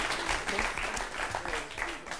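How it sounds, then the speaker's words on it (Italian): Studio audience at a talent show applauds a finalist, steady dense clapping heard close and fairly loud for the whole stretch, with some voices mixed in. "Un applauso, mi raccomando"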